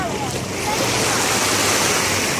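Rough sea waves crash and wash over a pebble beach in a dense, loud, unbroken roar, with wind buffeting the microphone and faint voices mixed into the surf.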